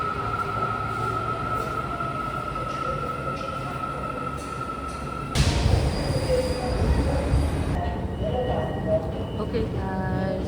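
A Kuala Lumpur metro train rumbles with wheels squealing, a steady high screech that gives way to louder rushing and rattling as it moves, with faint voices underneath.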